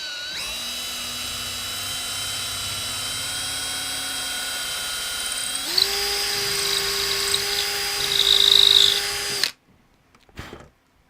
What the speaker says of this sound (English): that's how I'm going to target where to drill and how to drill straight